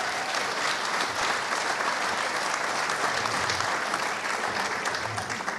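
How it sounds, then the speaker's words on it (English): Audience applause at a St. Patrick's Day roast, dense steady clapping from a full room that holds evenly and tapers slightly at the end. "Another round of applause for Coley Ryan."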